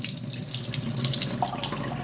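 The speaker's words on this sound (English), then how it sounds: "then you strain this water off" Starchy, milky rice-washing water strained off rice: a steady, close pour of water splashing and trickling, bright and continuous for a couple of seconds with no talking.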